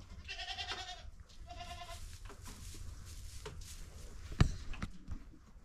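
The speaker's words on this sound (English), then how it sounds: "I see the baby goat in the pen" A baby goat bleats in a farm pen, several short wavering cries near the start, followed by quieter farmyard rustling and a sharp knock partway through.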